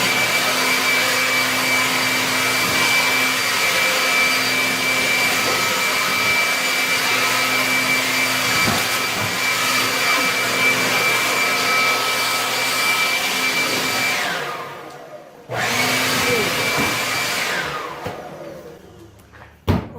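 A homemade dust filtration unit built for under $25 runs with a loud, steady fan roar and hum, cuts out abruptly for a moment, then starts again before winding down near the end. No voices.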